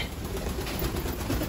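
Pigeons coo softly in an aviary colony of lovebirds and a cockatiel, a low murmur against a hissy background with no talking.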